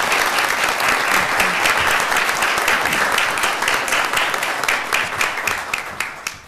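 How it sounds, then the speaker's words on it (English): Sustained, dense applause from a crowd at a city council meeting honoring 33 years of service, steady and fairly loud throughout before thinning slightly at the end. "let's give her another big round of applause"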